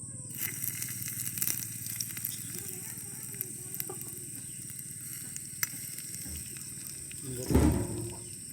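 Onions sautéing in a pan for tomato gravy, after mustard seeds have popped, give a steady soft sizzle throughout, with a brief louder burst of stirring or clatter near the end.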